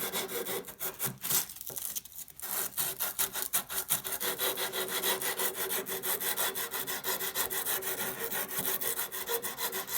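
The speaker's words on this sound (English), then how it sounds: "wrap sandpaper around a dowel and use that as my hand-done spindle sander" Sandpaper wrapped around a wooden dowel is rubbed over the curved edge of a wooden guitar headstock, producing dense, rhythmic back-and-forth rasping strokes, close and loud throughout with no talking.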